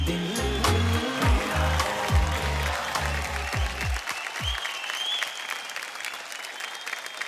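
An audience bursts into loud, sustained clapping for a singer, with a musical chord fading out beneath the early applause and the crowd continuing alone afterward.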